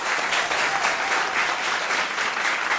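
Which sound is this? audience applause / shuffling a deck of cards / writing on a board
audience applause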